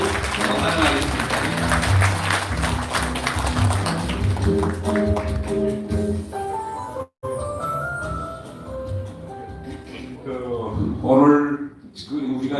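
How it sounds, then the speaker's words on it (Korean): Applause from an audience greeting a speaker arriving at an international forum on the repatriation of prisoners of war and human rights abuses. Steady clapping fills the first half, fades under a voice after a brief break, and talking follows. "큰 박수 여러분 박수로 환영하겠습니다."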